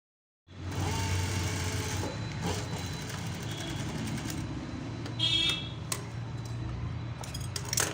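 A sewing machine stitches fabric piping in a continuous close, steady whir that runs through nearly the whole stretch after a brief silent start, with a few small clicks and clatters near the end.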